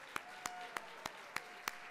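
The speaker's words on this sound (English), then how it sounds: "Let's give them all a round of applause." At a charity gala, six sharp, evenly spaced hand claps ring out over a steady room hum, each one loud and distinct, with no voices under them.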